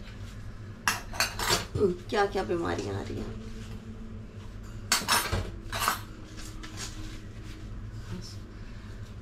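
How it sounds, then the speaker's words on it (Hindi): Dishes, pots and pans being washed by hand, with sharp clanks and clinks of steel utensils knocking together in bursts while someone talks over them. "थोड़े से ही हैं बर्तन फ्रेंड्स, जल्दी से कर लूँ काम खत्म"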